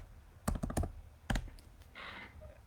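Typing on a computer keyboard in a quiet room, a few quick bursts of close key clicks separated by short pauses, with no talking.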